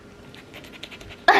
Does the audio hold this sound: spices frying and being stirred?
no